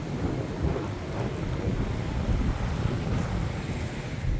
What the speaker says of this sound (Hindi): हल्की हल्की बारिश शुरू हुई